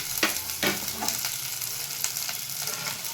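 Beans fry and sizzle in a pan for a tomato vegetable biryani, with a steady close crackle and several sharper scrapes as they are stirred.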